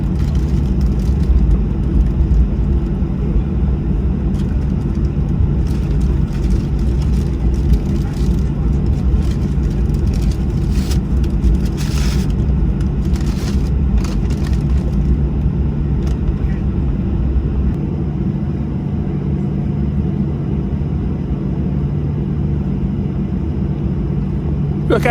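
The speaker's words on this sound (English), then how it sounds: "We'll taxi out to the runway, and I'll let you enjoy the remainder of the taxi just before we take off." Jet2 airliner taxiing out toward the runway, heard from inside the cabin as a steady low engine rumble and drone with faint rattles throughout.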